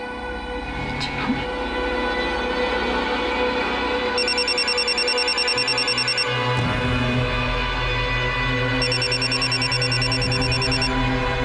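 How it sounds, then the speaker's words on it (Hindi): A phone rings in repeated electronic bursts over a steady low hum and rumble, with a brief spoken interruption partway through. "फोन बज रहा है"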